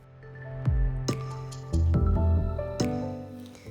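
Resin pours slowly over dried flowers in a quiet room as a second layer, with a few distinct drips and soft squishy splats landing at uneven intervals, close and fairly faint.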